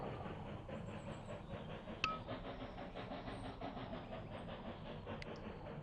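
A Southern Pacific train in a video game rolls steadily along the rails with a continuous low rumble and faint rhythmic clatter, one brief sharp click partway through and no voices.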